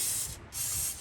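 A loud, steady aerosol spray of penetrant hisses up close on a 1966 International Harvester 1100A truck, cutting out briefly midway before a second burst continues.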